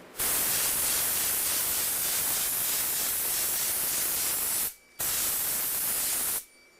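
A spray gun lays a mist coat of PVA release agent onto a waxed fiberglass mold, giving a loud continuous hiss that breaks briefly once before resuming and cutting off.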